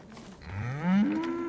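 A cow in the video game Ghost of Tsushima lets out a single drawn-out moo that rises in pitch and swells in the middle, close and clear with no talking over it.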